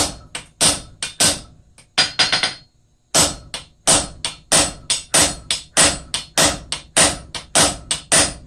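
Repeated hammer blows on hot metal on an anvil while upsetting the stock in blacksmith forging, loud and close in rapid rhythmic bursts with a brief pause partway through.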